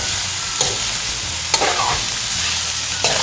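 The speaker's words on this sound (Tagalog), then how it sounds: "So you mix them all together." Boiled, thin-cut tender pork strips are stirred in a sizzling pan, the constant frying hiss broken by three distinct scraping strokes of a utensil, close and fairly loud, with no speech.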